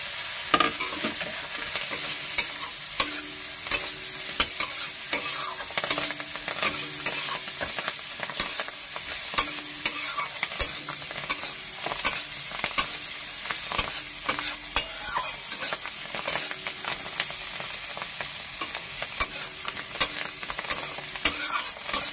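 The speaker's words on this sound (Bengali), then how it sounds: "ধনেপাতাটা দিয়ে আর একটু নেড়ে নিলাম।" Coriander leaves are stirred into fish masala frying in oil for amudi macher jhal, a steady close sizzle with repeated scraping stirs against the pan and no talking.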